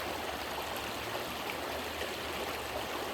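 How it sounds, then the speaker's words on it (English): A stream runs over rocks in Cheyenne Canon Park, a steady, close rushing and gurgling of water that holds level throughout with no voices. "you can hear how the rocks and how the water is going through the rocks"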